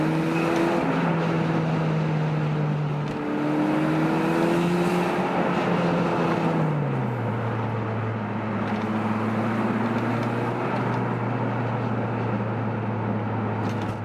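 A loud, continuous engine of a 2000 Toyota MR2 Spyder with a turbocharged 2ZZ-GE at 10 psi boost drones and shifts pitch, rising and settling as the throttle changes, with a raspy exhaust note throughout.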